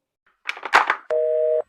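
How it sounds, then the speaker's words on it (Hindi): Steady telephone tone after a call is hung up, a single sustained electronic hum lasting about half a second, loud and clear, following a brief burst of clicks and handling noise. "अरे अबे साले ने फोन काट दिया।"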